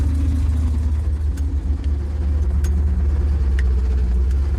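An old car's engine idles steadily up close with a low, continuous rumble and slight fluctuations, a few faint clicks on top and no voices.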